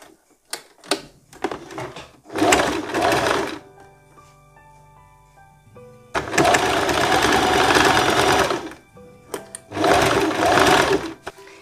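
A domestic sewing machine stitches the front of a blouse for finishing, running in several loud bursts of steady buzzing separated by short pauses and quieter handling noises, with no talk.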